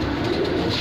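Soft, low cooing from Parwazi pigeons runs steadily through the moment, set against a constant busy background murmur at a pigeon sale.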